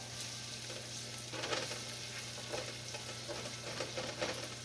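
Steady sizzling and crackling of food frying in a pan, with scattered louder pops and stirring sounds over a constant low hum, no voices.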